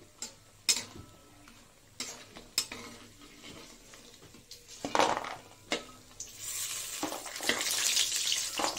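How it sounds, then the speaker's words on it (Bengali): Lentil dumplings (bori) frying in oil in a pan, a soft sizzle with sharp clinks and stirring scrapes at close range, the sizzling growing louder and denser toward the end, no talk. "এই যে আমার বড়িটা ভাজা হচ্ছে।"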